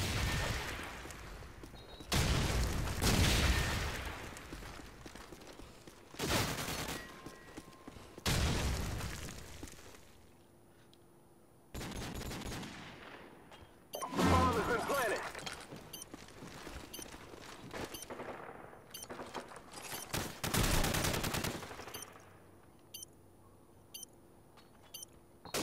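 Grenade blasts and gunfire in a Search and Destroy match of the video game Call of Duty 4, heard as several heavy booming bursts and sharp shots spread irregularly, with quieter gaps and small clicks between them.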